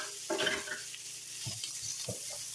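Food sizzles softly in toasted sesame oil in a heated electric skillet, a faint steady crackle with a few brief stirring scrapes.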